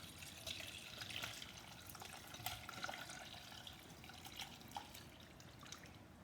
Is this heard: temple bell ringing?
no